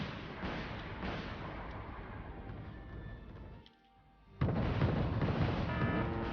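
An AS-15TT missile launched in the video game Wargame Red Dragon, a sustained rushing roar that briefly drops away before a loud, abrupt burst of blast noise resumes close by.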